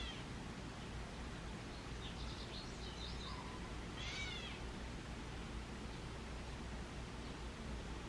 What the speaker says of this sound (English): Like, almost like a kitten crying.